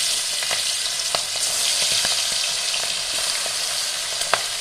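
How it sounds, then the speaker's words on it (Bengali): Prawns fry lightly in hot oil in a kadai, making a loud, steady, close sizzle throughout with occasional faint ticks and pops. "আমি বন্ধুরা হালকা করে ভেজে নিব"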